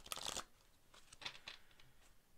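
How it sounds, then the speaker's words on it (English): Tarot cards being shuffled give a quick burst of close, crisp riffling, then several softer taps and flicks as the deck settles, all at low volume in a quiet room. "I'm going to shuffle."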